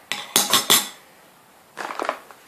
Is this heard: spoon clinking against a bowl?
yes